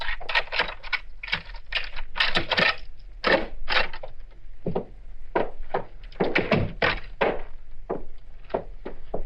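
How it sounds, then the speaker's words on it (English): Old-time radio drama foley of a house door being unlocked with a key and opened: a run of close, sharp knocks, clatters and wooden thunks with metallic rattles, loud and continuous over a low hum, with no voices. "let me open the door, Eileen."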